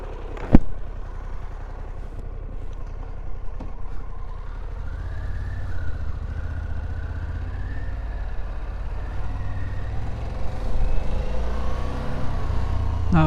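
A Harley-Davidson Pan America ST motorcycle engine runs with a steady low rumble under wind noise while riding, with a sharp click near the start and shifting engine pitch throughout.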